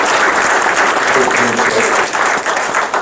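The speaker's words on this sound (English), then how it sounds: "Let's give Milt Miller a round of applause." A meeting audience applauds for an honoree, a dense, loud wash of clapping that runs steadily throughout, with a voice faintly underneath.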